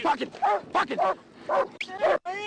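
A police dog barks and yelps repeatedly in quick, agitated bursts during an arrest in Arkansas, close by, with some whining.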